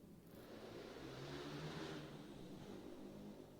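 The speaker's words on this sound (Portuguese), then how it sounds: "Todo domingo ele passa nesse horário aí, com essa moto silenciosa" A quiet motorcycle passes by, its soft engine whir rising smoothly to a peak midway and then easing off, with steady low rumble and no voices.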